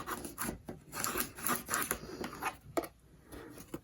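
The paper edge of a handmade tri-fold window album is burnished with quick, quiet back-and-forth rubbing strokes, a soft scraping rhythm with brief pauses, close up and faint.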